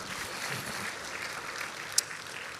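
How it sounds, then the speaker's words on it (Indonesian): A church congregation gives applause for the Lord during a service, a soft, distant, steady wash of many hands clapping with a faint room hiss and one brief sharp click near the end. "Berikan tepuk tangan kita untuk Tuhan kita"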